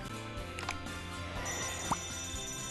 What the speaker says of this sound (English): That's the fire alarm.